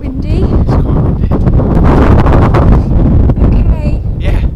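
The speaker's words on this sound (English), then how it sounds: "we're at the very top of Urquhart Castle. It's windy. It's quite windy." Strong wind at the top of Urquhart Castle buffets the microphone in loud, continuous rumbling gusts, with people talking faintly beneath it.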